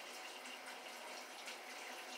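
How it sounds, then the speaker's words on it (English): Tap water runs steadily into a sink while sea scallops are rinsed under it, a constant close hiss and splash with no talk. "So I'm going to get these rinsed off real quick."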